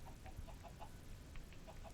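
Chickens clucking in the Minecraft video game, a string of quiet, evenly spaced clucks heard at a distance over a soft background hum, with no talking.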